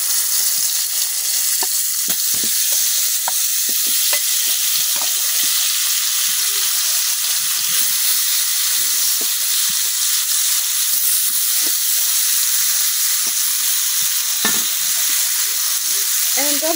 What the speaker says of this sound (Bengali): এখন আমি যে টমেটো গুলা মশলা মাখাই রাখছিলাম ওই টমেটো গুলা ভাজলাম।